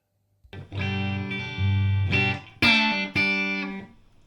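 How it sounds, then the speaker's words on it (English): Distorted electric guitar chords through a mid-1970s Carlsbro TC60 twin-channel reverb valve amplifier ring out loud and close, a few sustained strums changing partway, with no talking. "We'll get the guitar through them so you can have a listen and things."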